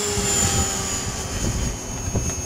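A helicopter lifts off for autorotation training, its engine and rotor making a steady droning whine with a low, pulsing thump, loud and close, with no talking.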